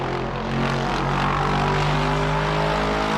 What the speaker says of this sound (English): There's a very nice V8 sound there from Shilage's car.